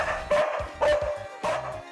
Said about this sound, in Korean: 짖는 소리도 크고, 저 털도 얼마나 많이 빠질 거예요.